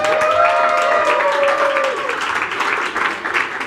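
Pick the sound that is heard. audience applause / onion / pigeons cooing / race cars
audience applause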